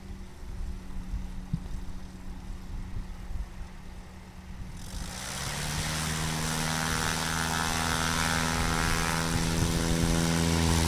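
A STOL propeller airplane clawing off the runway at a short takeoff competition in Hartford, Wisconsin, the engine note swelling halfway through into a loud, sustained prop roar that stays steady to the end.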